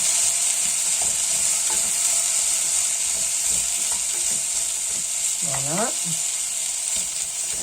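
Radish-top soup ingredients stirred in a cooking pot, a steady sizzling bed with scraping stir strokes throughout and a brief spoken word near the end.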